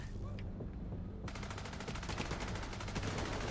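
A light machine gun fires in the Manhunt video game: after a short lull, a loud, sustained stream of rapid, evenly spaced shots continues to the end.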